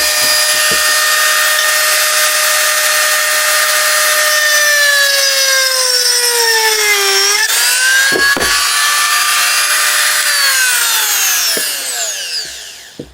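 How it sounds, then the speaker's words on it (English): A rotary tool whines at high speed, pitch sagging as it bites into wood, briefly dropping out, then revving again before winding down. "that will show you that it has plenty of speed to drill into most of your home projects"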